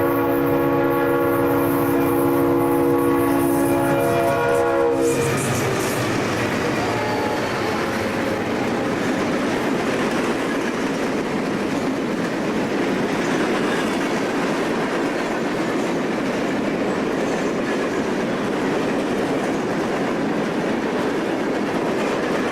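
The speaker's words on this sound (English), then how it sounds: "an eastbound empty hopper train rolls under the Norfolk Southern overpass on the west" An eastbound empty Conrail hopper train rolls under a Norfolk Southern overpass at Oak Harbor, its horn sounding in long tones before a steady, loud rumble and clatter of empty cars passing close by, continuing without voices.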